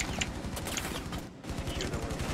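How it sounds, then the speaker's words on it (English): In Rainbow Six Siege, rapid gunshots fire in quick rhythmic bursts, fairly faint and at a distance, through a short stretch of steady firing. "Where were those shots coming from?"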